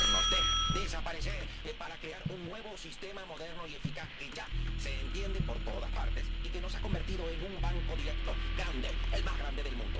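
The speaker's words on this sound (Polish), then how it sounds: "Spróbujmy zadzwonić dzwonkiem." A doorbell in the Hello Neighbor game chimes at the start with a few bright ringing tones, followed by game music and someone talking over it.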